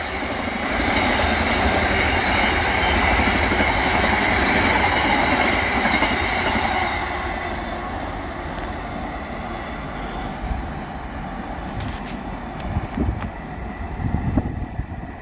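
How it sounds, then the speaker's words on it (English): A Class 66 diesel locomotive hauling loaded coal wagons passes on a main line near a station, its broad rumble loud and steady at first and then easing off, with wind buffeting the microphone and rattling wheel noise toward the end. "Freight line of class 66"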